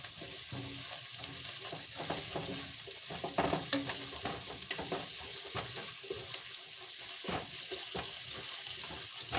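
Spoon stirring parsley through a simmering corn and quinoa chowder in a pot, close scraping and soft sloshing with a steady bubbling sizzle underneath, no talking.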